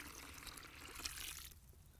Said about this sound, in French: je viens apporter de l'eau